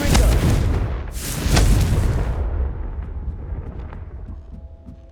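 Spell explosions from the Confringo blasting spell in the video game Hogwarts Legacy on PS5: two heavy, loud booms in quick succession, each with deep rumbling bursts, then a long decaying rumble fading into low ambience.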